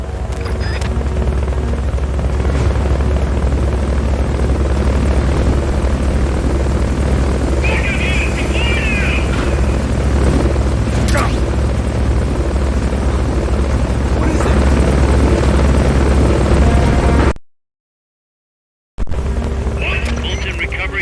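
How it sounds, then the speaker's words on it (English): A rotor helicopter in the video game Metal Gear Solid: Peace Walker gives a constant loud low thrum with a steady beat. Short game effects and tones sound over it, and the sound cuts out briefly near the end. "Fulton recovery subject confirmed onboard helicopter."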